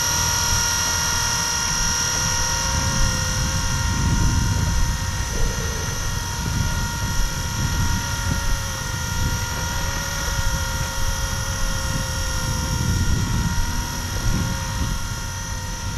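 A Blade 230 RC helicopter hovers steadily outdoors in wind, its rotor giving a continuous whine with high steady tones and a buzzing low-end drone that holds at an even level throughout.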